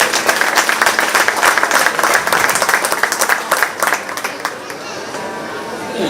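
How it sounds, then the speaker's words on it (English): Audience applause and clapping for 4H/FFA goat show kids at a county fair, sustained and loud for several seconds before thinning out, with crowd chatter mixed in. "let's give those kids a big round of applause"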